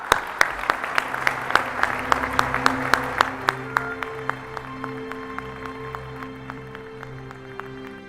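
An audience at a Sigma Phi Epsilon conclave citation ceremony claps in a steady rhythm that thins out over the clip, with a low tonal hum underneath.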